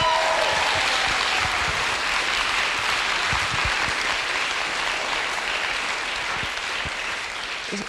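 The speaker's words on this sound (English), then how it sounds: "Give it another big round of applause for our friends" A large audience at a startup demo day applauds in a dense, sustained wash of clapping that holds steady for several seconds and fades slightly toward the end.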